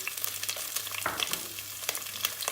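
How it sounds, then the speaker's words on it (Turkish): Onions hit lightly warmed oil for a potato dish and sauté with a dense, even sizzle and scattered pops, close by and steady throughout, with no talking. "Yağımız hafiften ısındı. Soğanlarımızı ilave ediyoruz."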